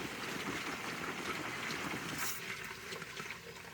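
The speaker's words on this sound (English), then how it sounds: "Look at the flow going down into the sewer." Water from a Valterra Flush King rushes through a Valterra Viper sewer hose into an RV dump station, a steady loud gushing flow that continues without break and eases slightly near the end.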